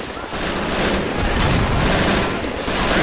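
Machine gun fire in Men of War Assault Squad 2, a continuous dense crackle of rapid shots with a steady loud level throughout, distant battle rumble underneath.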